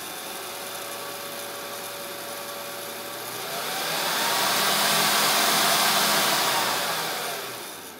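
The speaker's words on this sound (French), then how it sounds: "Tu vois, le petit ventilo, il tourne." A small battery-powered 12-volt cooling fan from a 50cc scooter cooling setup whirs steadily close by, a continuous airy hum that swells louder midway and then eases slightly, with no talk.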